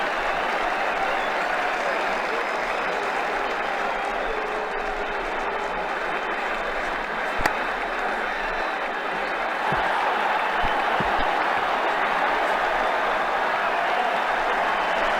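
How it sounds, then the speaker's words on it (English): Crowd applause and cheering from the Ashes Cricket 2009 video game after a six in an Australia versus New Zealand Test, a steady, loud wash of clapping that holds for the whole stretch, with a commentator's voice faintly beneath. "The crowd really enjoyed that one."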